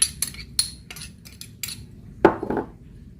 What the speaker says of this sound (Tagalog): Tapos guys, haluin natin lahat ito.